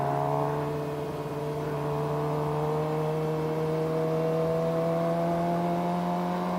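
A Suzuki GSXR motorcycle engine pulls away and accelerates, a steady tonal drone rising gradually in pitch, close and continuous with no voices.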